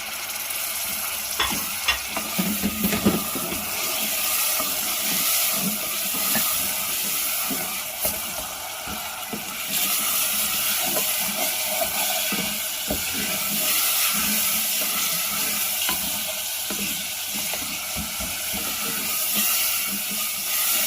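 Ingredients for a Hindi-style white egg korma fry and stir in a pan, giving a steady broadband sizzle with scraping stir strokes that cluster in the first few seconds, close and fairly loud throughout with no talking.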